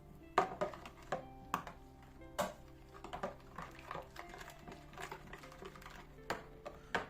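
A spoon stirs dry yeast into lahmacun dough mixture in a bowl, giving faint, irregular clicks and taps against the bowl with soft scraping in between.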